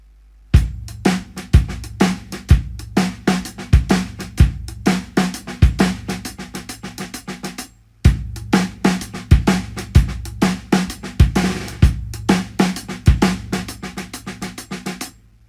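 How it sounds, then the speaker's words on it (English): Swiss Army triplets played on a drum kit, with the right hand staying on the hi-hat instead of moving to the toms. Punchy kick and snare strokes fall in a steady rolling pattern under crisp cymbal hits, with a short break midway. "One of the things I do like to do is just leave my right hand on the hi-hat instead of bringing it to the toms at all."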